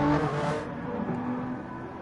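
Ferrari and BMW race cars on the final lap of a race, their engines a sustained high whine that drops and fades after the first half second, with no talk.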